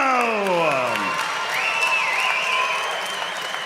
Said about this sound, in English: a round of applause to his opponent, Ben Price